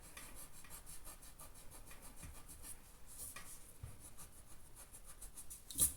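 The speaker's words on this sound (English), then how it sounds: "So I'm going to rub that part out as well." A rubber eraser rubbing out part of a pencil-drawn probability Venn diagram, a soft steady scratching rub close up and fairly quiet, with a brief sharper tap near the end.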